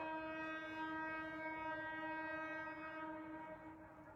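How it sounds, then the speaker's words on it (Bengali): A vehicle horn blares in traffic, one sustained harmonic blast held for about four seconds before fading slightly, loud and near with no talk over it. "হর্ন মারতে মারতে যাচ্ছে সব গাড়ি।"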